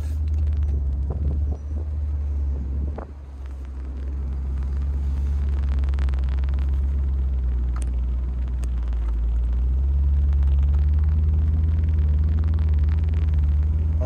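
A supercharged Jaguar XKR convertible with 39K miles rumbles steadily while driving, a deep, continuous low engine drone with road and wind noise, swelling slightly louder toward the end, no talk.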